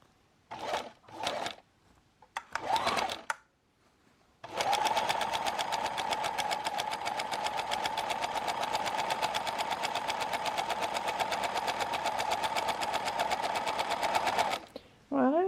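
A domestic sewing machine stitches rows of shirring on a garment, running in a fast, even whir for about ten seconds after a few short bursts. A person speaks briefly before and after.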